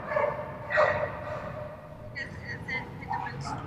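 An English Springer Spaniel gives a few short barks and yips at an outdoor dock-diving event, mixed with crowd noise and a person talking.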